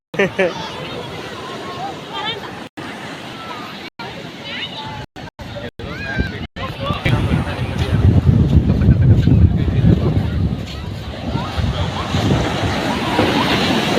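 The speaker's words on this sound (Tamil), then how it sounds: "என்ன திடீர்னு பெருசாகிருச்சு அலை எவ்வளோ தூரம் வந்துருச்சு" Ocean surf surges onto a beach at Kanniyakumari, a loud broadband rush that swells and builds toward the end, with wind on the microphone and people talking and laughing nearby.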